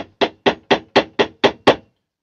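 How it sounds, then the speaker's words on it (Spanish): Eight steady hammer blows strike a wooden tool handle being fitted into a ferrule by traditional woodturning methods, evenly spaced, sharp and close, with no talk over them. "el truco es martillear la madera"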